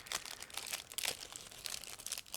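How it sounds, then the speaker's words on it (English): Crinkling plastic of a parts bag being opened for a 1/35 scale IBG Models Chevrolet C60L lorry kit, a close, continuous rustle and crunch with no talking. "Next, I'm opening one more plastic bag"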